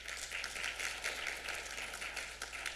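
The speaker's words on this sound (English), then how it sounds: "can you please give me a round of applause?" A soft, dense wash of applause from a conference audience, continuous and fairly distant.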